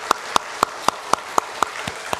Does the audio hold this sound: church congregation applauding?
yes